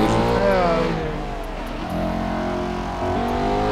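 Car engine in GTA 5 revving loudly with rising and falling pitch as it shifts through gears, close and steady, with no voices over it.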